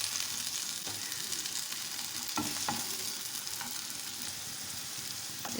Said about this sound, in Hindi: इसको हम 1 मिनट तक अच्छे से फ्राई करेंगे इन तमाम चीज़ों को